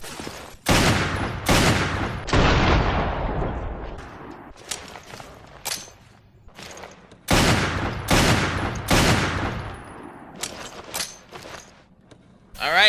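Lightning Hawk magnum handgun firing in Resident Evil: Revelations, loud sharp shots in quick bursts of three or four, each ringing out with a decaying tail, separated by brief pauses.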